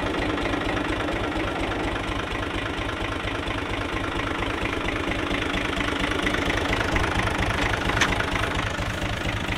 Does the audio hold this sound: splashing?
no